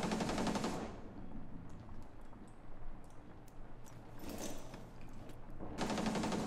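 Rapid bursts of automatic gunfire open and close the passage, with scattered single shots and clicks in between, sounding like combat in Rainbow Six.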